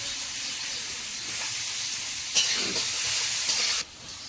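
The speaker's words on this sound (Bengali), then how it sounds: "তেলের মধ্যে পেঁয়াজ কুচি দেবো।" Chopped onion fries in hot oil with a steady, loud broadband sizzle and hiss, briefly flaring sharper near the middle as the pieces are stirred, then dropping away abruptly just before the end.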